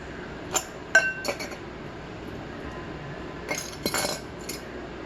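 A brass lamp is set into a silver dip cleaning solution, giving several light, close metallic clinks: a quick cluster early on, a quiet gap, then another busier cluster near the end, with no talking.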